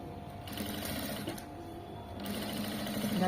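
A sewing machine stitching piping close beside the thread line, heard up close as rapid, rhythmic mechanical clatter in short runs with small pauses between them.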